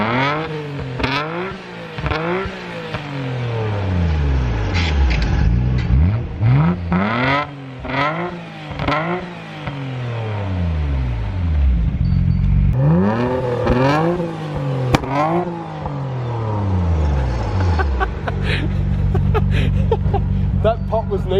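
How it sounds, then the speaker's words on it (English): A Millennium Jade Nissan Skyline R34 M-Spec Nür with light mods, a Motec system and an aftermarket exhaust starts up and is revved hard again and again, each loud, close burst of engine noise climbing and falling back to idle. "We're about to start the car up and hear it for the first time."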